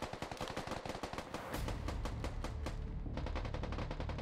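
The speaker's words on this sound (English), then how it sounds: "you must return a high volume of suppressing fire towards your enemy" Heavy suppressing gunfire from an infantry training exercise, with rapid automatic bursts that become a dense, continuous, loud roar of overlapping shots.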